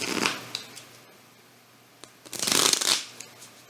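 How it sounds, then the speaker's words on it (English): Two quick riffle shuffles of a deck of cards, each a brief fluttering burst, separated by a quiet pause with a few soft taps. "you usually start by shuffling the cards"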